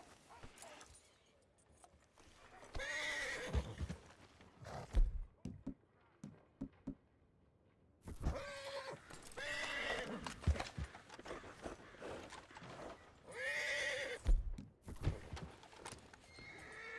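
A horse in the video game Red Dead Redemption 2 gives several loud, close whinnies and snorts among hoof clip-clops and thuds, with brief pauses between bursts and no talk over them.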